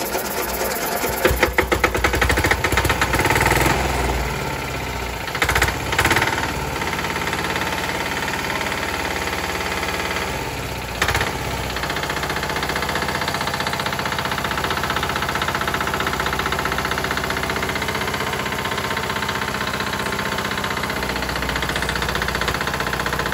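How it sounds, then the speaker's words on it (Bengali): Second-hand Chinese engine of a 2-kilowatt generator set started up, sputtering unevenly at first and then settling into a loud, continuous, steady idle with a faint knocking texture. "আপনাদেরকে এখন ইঞ্জিনটা স্টার্ট দিয়ে দেখাবো ইঞ্জিনটা কি অবস্থায় আছে"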